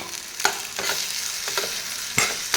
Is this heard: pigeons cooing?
no